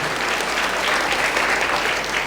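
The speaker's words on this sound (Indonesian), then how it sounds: "boleh kasih tepuk tangan yang dahsyat buat Bapak Yahweh" Loud, sustained applause from an audience, dense and steady clapping throughout with no talking.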